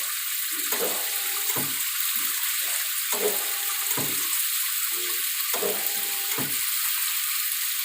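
Steady hissing spray of shower water runs throughout, loud and close, with faint low thumps and shifts beneath the constant rush.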